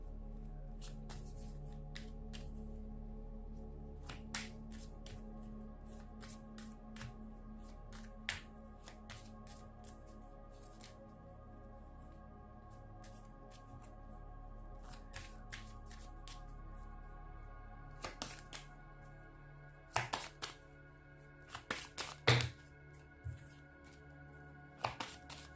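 A deck of tarot cards being shuffled by hand, soft repeated riffling and flicking sounds over a low steady hum, with a cluster of sharper, louder card snaps near the end.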